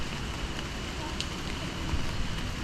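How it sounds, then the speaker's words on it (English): Rain falls steadily on a botanical garden in Puerto Plata, a dense, even hiss of drops that fills the whole stretch without a break. "The rain started to fall a little harder, but that didn't stop us."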